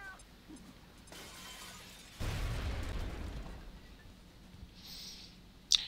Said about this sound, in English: Soldier, throw that grenade in there.